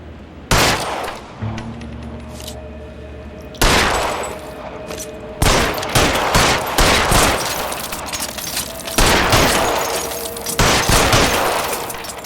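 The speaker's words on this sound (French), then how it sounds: "il faut qu'on tire dessus" Gunfire in L.A. Noire, a sharp initial shot followed by heavy volleys of rapid, overlapping blasts, loud and close, alone without speech.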